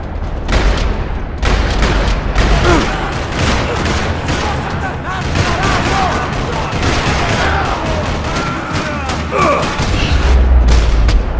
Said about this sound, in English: parking lot rattling with gunfire